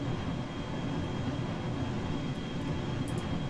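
Turbo ramjet engines on a spaceplane in Kerbal Space Program, a steady, dense jet roar that holds constant and close throughout with no talk.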